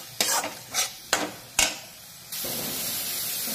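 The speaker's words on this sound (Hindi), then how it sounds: "इसके लिए हम एक मिनट के लिए मसाला के साथ दही को मिक्स कर लेंगे" Yogurt being stirred into frying masala in a pan, with four distinct scraping stirs of a spoon over a soft sizzle, followed by a steady, louder hiss of frying.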